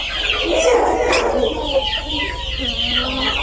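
Close, loud clucking of fighting cock chickens on a farm, with busy overlapping calls and a drawn-out note near the end, no talk.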